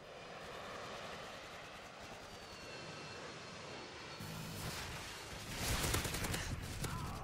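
A Harrier jet airstrike in Modern Warfare 2 on the Salvage map brings a broad roaring aircraft engine that swells toward the end, mixed with bursts of gunfire, all at a moderate distance.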